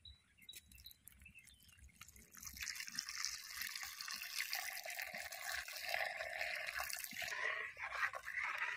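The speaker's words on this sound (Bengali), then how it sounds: "এবার আমি এর মধ্যে দিয়ে দেব 500 গ্রাম লিকুইড মিল্ক" Liquid milk, 500 grams, pours steadily into a pan on a stove for a rice-flour milk pitha, a soft trickle swelling into a continuous splashing pour for several seconds, alone without talk.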